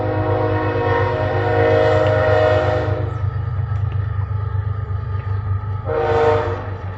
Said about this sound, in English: With the train coming through.